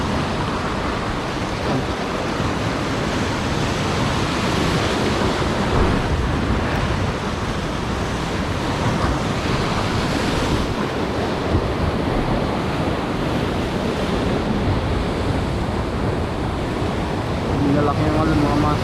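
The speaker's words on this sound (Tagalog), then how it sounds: "Lalaki yung alon mga master." Large ocean waves crash steadily along a shore in a continuous loud roar of surf and spray, with heavy wind buffeting the microphone and faint voices briefly at the end.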